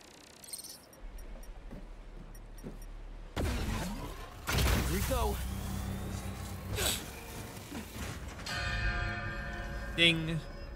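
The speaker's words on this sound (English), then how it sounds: "Now to ring the bell." A bell rings in the video game Marvel's Spider-Man 2 amid game sounds: a resonant metallic chime and a later strike with a lingering ringing tail over a dense, busy background.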